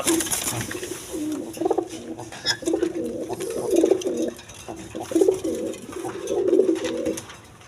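Pigeons at a farm selling big-size birds coo steadily in overlapping rolling phrases, close and fairly loud, while someone talks intermittently over them.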